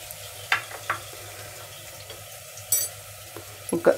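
Egg biryani masala with green chilies, chili powder, salt, biryani powder and yogurt being stirred in a clay pot, giving a few soft scraping strokes and gentle wet sizzling, up close with no talking.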